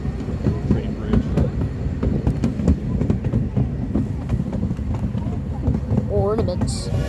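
A ride-on train crosses a bridge with rhythmic clicking and clacking of wheels over the rails. The rattling is close and steady, with a voice and a brief high squeal near the end.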